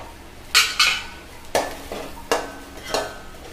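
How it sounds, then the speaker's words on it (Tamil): Grated coconut sautéed on a slow flame in a pan for a Tamil mutton kulambu, with a spoon scraping and stirring in several distinct bursts, close and fairly clear, and no talking. "ஸ்லோ ஃப்ளேமில் வந்து வதக்கிக்கிறோம்"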